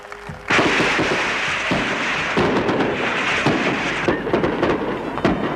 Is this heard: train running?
no